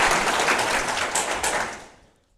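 A large seminar audience breaks into loud applause, a dense burst of clapping that fades out over about two seconds.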